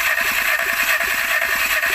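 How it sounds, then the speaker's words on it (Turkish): A 1.4 TSI car engine cranks on the starter with the throttle held wide open, giving a steady, loud mechanical whirr with rapid, even rhythmic pulses and no speech. "Tam gaz, gazı basılı tut ve bas marşa."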